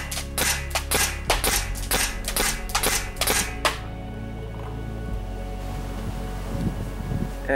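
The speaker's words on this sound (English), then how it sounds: "I'm going to shoot at it now with a couple of shots in semi-automatic mode." A GOG G1 paintball marker fires a quick run of about a dozen sharp, loud shots in semi-automatic mode at an outdoor range, followed by a quieter stretch with only low background hum.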